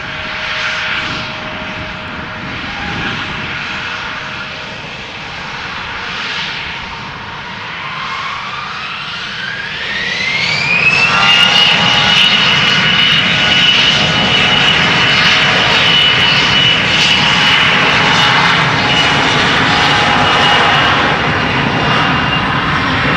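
SAS CRJ 900 jet airliner at Amsterdam Schiphol Airport, its engines spooling up with a rising whine into a sustained loud roar, heard from nearby and without talk.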